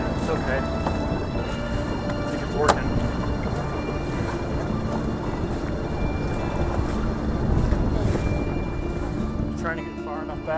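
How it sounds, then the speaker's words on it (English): Steady low engine and water rumble fills the scene, with a motorboat droning continuously nearby in fog on open water, growing slightly stronger toward the end; no speech. "It's a boat coming."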